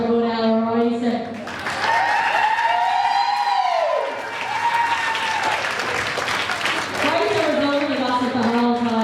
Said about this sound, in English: Can we all have a round of applause for good Ella Riser?